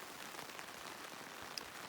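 Rain falls steadily on a tent at a campsite in the Rockies, a dense, even patter close overhead with an occasional louder drop and no talking.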